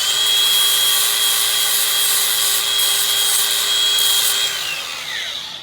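An angle grinder fitted with a flap wheel sands an aluminum throttle body from a Chevy/GMC TBI unit, a loud, steady high-pitched whine that holds for about five seconds and then begins to wind down at the end.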